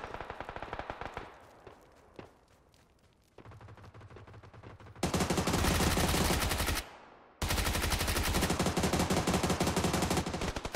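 Automatic gunfire in the video game PUBG crackles in rapid bursts, first sparse and fading, then long, loud, dense streams of shots separated by brief pauses.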